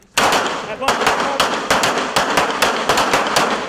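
Rapid sharp gunshots from real firearms at a shooting range, a loud close series of cracks fired in quick, slightly uneven succession.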